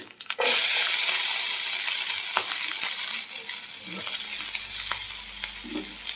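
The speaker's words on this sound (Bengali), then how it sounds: "তেলটা গরম হয়ে গেছে এর ভিতরে দেবো আমরা কুচিয়ে রাখা পেঁয়াজ" Chopped onions hit hot oil and sizzle steadily, a bright continuous frying hiss with occasional clicks and stirring scrapes, close and loud with no talk.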